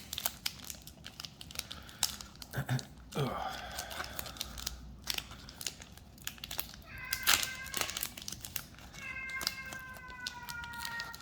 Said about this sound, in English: that was my cat yelling you may have heard